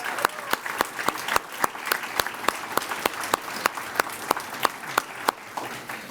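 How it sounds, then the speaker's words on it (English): An audience at a regional art show awards ceremony applauds high school winners, with a soft bed of many hands and a few sharp, regular claps standing out close by throughout. "So please join me in a big round of applause for all of our high school"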